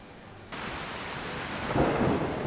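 Steady rain pours down with rolling thunder swelling in a video game's rainy lakeside village, a dense, continuous hiss that starts abruptly and builds into a deeper rumble toward the end, with no voices.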